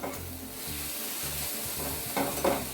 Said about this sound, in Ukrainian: Так, шпинатик у нас вже прив'янув перемішуємо.